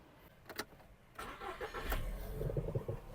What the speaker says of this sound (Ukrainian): Автомобіль завівся з півтику, не димить, не троїть.